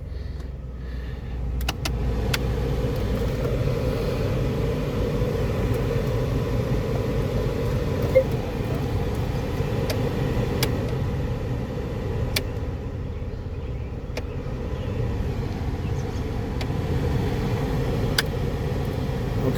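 A 2002–2005 Ford Explorer idles with its AC blower fan running, giving a steady low engine rumble under a constant airy hum and occasional small clicks, close and unchanging throughout.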